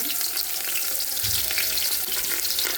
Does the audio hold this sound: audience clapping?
no